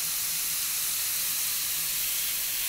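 Chopped onion hits a hot pan, giving a steady, even sizzling hiss that carries unbroken from start to finish, close up and with no talking.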